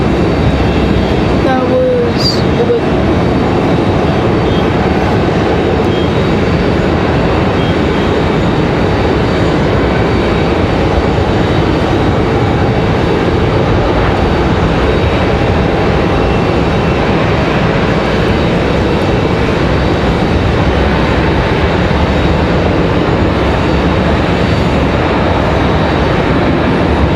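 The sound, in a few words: Icelandair airliner taxiing at Raleigh-Durham airport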